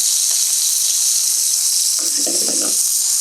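Mushrooms sizzle and fry in a hot pan for Napolitan pasta, a steady close hiss with a burst of crackling and stirring near the end.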